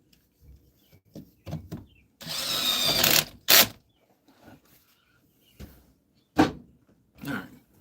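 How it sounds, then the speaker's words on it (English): A power drill whirs in a short burst lasting about a second, surrounded by scattered knocks, clunks and handling noises. "I'm drilling it down"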